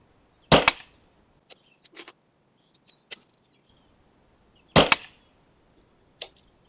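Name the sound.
Daystate Redwolf air rifle shots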